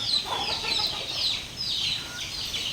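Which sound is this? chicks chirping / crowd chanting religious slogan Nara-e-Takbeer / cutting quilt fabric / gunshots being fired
chicks chirping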